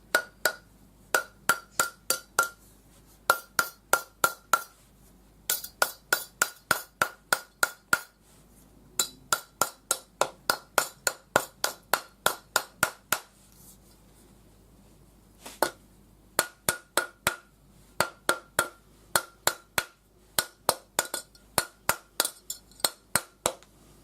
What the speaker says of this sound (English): using the rawhide hammer.